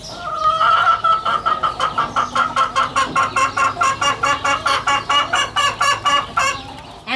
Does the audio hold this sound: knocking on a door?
no